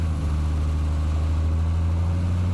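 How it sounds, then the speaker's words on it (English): A Caterpillar C15 truck engine idles in American Truck Simulator with a modded engine sound pack, a loud, steady low rumble that holds unchanged throughout with no speech. "C15 NBN engine and sound pack by ZEEMODS"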